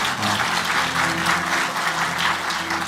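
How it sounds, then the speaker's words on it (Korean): A church congregation at Sunday worship applauding newly baptized members, a steady, moderately loud round of many hands clapping that fills the whole space, with a faint murmur of voices beneath. "박수를 한번 격려해 주실까요?"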